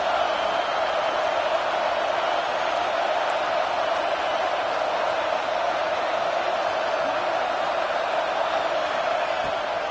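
A home crowd at a football game roars as the defense tries to get off the field on third down, a steady, dense wall of cheering that holds at an even level for the whole stretch.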